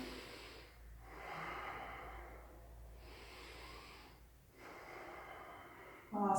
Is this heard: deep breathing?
yes